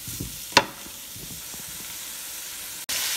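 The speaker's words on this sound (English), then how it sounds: "we're going to go ahead and add the ham. And we're going to let this cook up some more" Ham frying in a pan for Haitian macaroni, a steady hissing sizzle with a sharp clatter near the start and a brief cut near the end, close and without talking.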